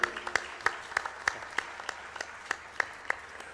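Quiet applause from an audience: sharp claps land in a loose, fairly even rhythm over a low murmur.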